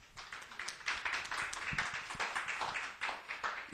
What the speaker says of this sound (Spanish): Démosle, por favor, un fuerte aplauso